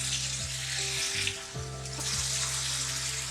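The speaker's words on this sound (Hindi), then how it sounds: "जरा सा मैंने थोड़ा थोड़ा पानी डाला था हल्दी और लहसुन के साथ, ताकि वो अच्छी तरह भुन जाए।" Chicken liver fries in a pan with turmeric, garlic and a splash of water, giving a steady, close, bright sizzle with a few soft stirring shifts and no talk.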